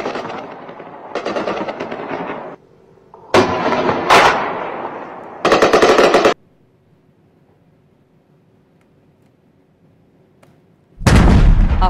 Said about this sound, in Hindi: अफगान सिक्योरिटी फोर्सेस ने सरहद के कई मकामात पर बिला इश्तियाल फायरिंग का सिलसिला शुरू कर दिया।